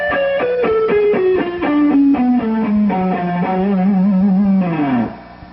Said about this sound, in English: The fourth part of the riff sounds like this.